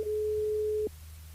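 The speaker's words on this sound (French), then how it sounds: "On appelle Cynthia sur le standard." A single steady telephone tone sounds as a radio show calls a listener through its switchboard, holding for under a second before cutting off, then leaving a quiet hum with no voices.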